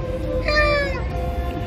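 A cat meows once, a clear rising-falling call close by, over a steady low background rumble; no talk.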